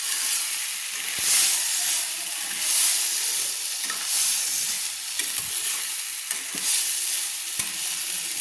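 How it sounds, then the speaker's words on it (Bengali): Fried potatoes are stirred with spices in a hot pan for ghugni, giving a constant loud sizzle with scraping stirs on top and no talking. "আলুগুলোকে ভালো করে নেড়ে নিচ্ছি"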